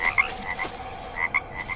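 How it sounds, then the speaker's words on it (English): Repeated short croaking calls of a caiman in the jungle survival game Green Hell, a steady run of throaty grunts at moderate level with no talking. "that is the sound of a caiman."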